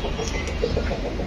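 Chickens clucking close by in a coop being cleaned, a steady loud run of short clucks with no talk.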